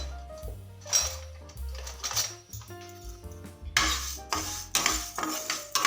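Moong dal is dry-roasted in a pan while a metal spoon stirs and scrapes it, giving repeated clinks and scraping strokes in uneven bursts, close and fairly clear with no talk.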